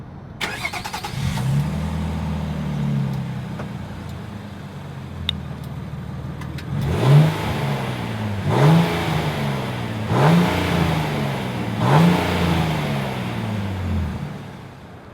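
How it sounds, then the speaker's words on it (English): A 2026 Nissan Armada's exhaust idles with a low, steady burble, then the engine revs up several times in a row, each blip rising sharply and settling back to idle, loud and close. "As always, here is that exhaust clip."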